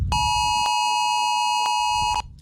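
A loud iPhone emergency alert blares a steady, piercing electronic tone with sharp pulsing beeps, sounding continuously for about two seconds before cutting off, with faint room noise beneath.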